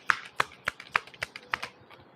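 Tarot cards being shuffled by hand, a series of about eight crisp, evenly spaced flicks and taps, close and fairly quiet, alone without talk.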